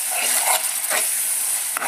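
A spoon stirs pasta sauce with ketchup in a pan over the flame, producing a steady soft scraping and sizzling hiss with a few brief louder scrapes and no talk.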